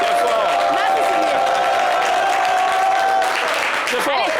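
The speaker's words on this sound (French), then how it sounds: "Applaudissez pour Silué. Très fort." A studio audience applauds for a guest on a French-language live talk show: continuous clapping and some cheering run steadily underneath a person talking over it.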